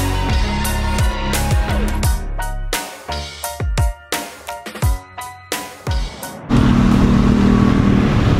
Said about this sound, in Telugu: చూసారా ట్రాఫిక్ ఏ విధంగా ఉందో? బైక్ కాబట్టి వెళ్ళిపోతున్నాం చాలా తేలిగ్గా.